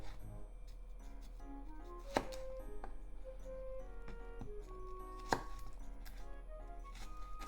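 A knife slicing a halved, peeled onion into thin slices on a cutting board, with a few faint sharp cuts, two of them clearer, set against a low steady background hum and quiet kitchen noise.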